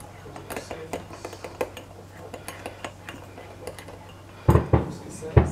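A spoon stirs homemade cappuccino powder mix in a cup, a run of quick light clinks against the sides, then a few louder knocks near the end, with a voice heard briefly.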